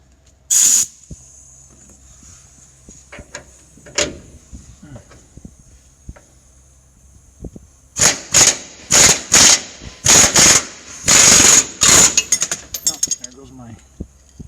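A pneumatic impact tool works a bolt on a 2015 Ford F150 during a leveling kit install, firing in one short burst and then a rapid series of loud hissing, rattling bursts up close, with some speech between them.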